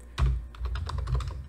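Rapid keystrokes on a computer keyboard while entering code for a Python tkinter progress bar, a loud first press followed by a quick irregular run of clicks, close and clear, with no talking.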